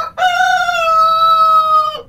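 A rooster crows once, loud and close, a single sustained cock-a-doodle-doo call of about two seconds with clear, steady harmonics and no voices over it.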